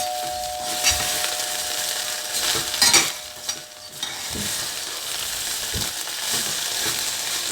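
Seasoned egg with pepper is mixed and fried in a pan: a steady close sizzle punctuated by clattering stirs and spatula scrapes, with no one speaking.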